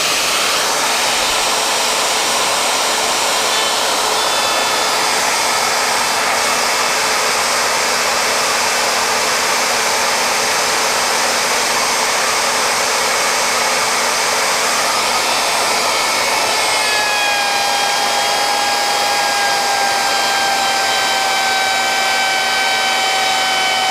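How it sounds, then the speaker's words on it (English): A router cuts out a wooden Stratocaster guitar body with a steady, loud, unbroken motor whine whose pitch shifts slightly late in the cut. "You don't start your router while it's in the wood."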